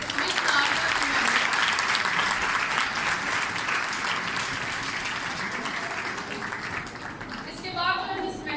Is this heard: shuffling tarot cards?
no